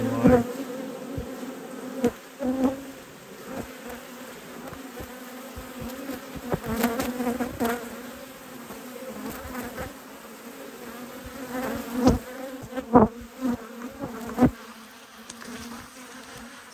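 A strong honeybee hive with a new queen hums steadily up close, with intermittent knocks and handling thumps breaking through the buzzing.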